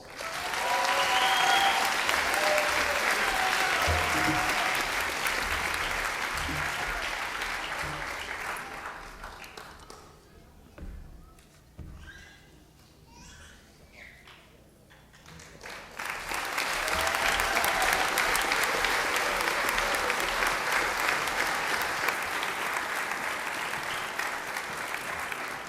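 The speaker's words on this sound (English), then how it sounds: "We need to applaud each and every graduate of the 18th Company." A crowd at an academy graduation ceremony applauds loudly for a long stretch, the clapping dips to a quieter patch midway, then swells again into full, steady applause.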